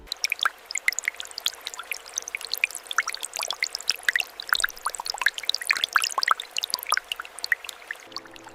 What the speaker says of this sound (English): These high-speed industrial washing machines utilize controlled water jets to thoroughly cleanse the Arabic camel hides